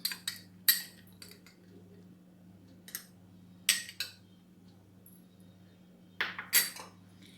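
Nuts dropped into a falooda glass give a few sparse, sharp clinks and taps against the glass at irregular intervals over a quiet kitchen background with a steady low hum.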